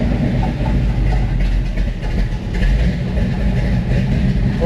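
A car engine rumbling loud and close, a deep, steady low drone with a faint rhythmic flutter that continues without pause.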